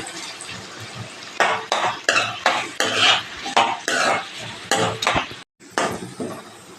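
Tomato and green chilli pieces in a frying pan, stirred in a series of loud rhythmic scraping strokes against the metal with a faint sizzle beneath, briefly pausing near the end.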